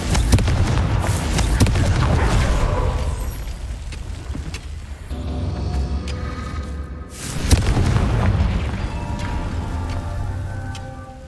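Confringo blasting curse in a Harry Potter video game, heard as loud, booming explosive bursts with rumbling debris, one dense blast at the start and a second sharp impact a few seconds later, with a lingering game soundscape between.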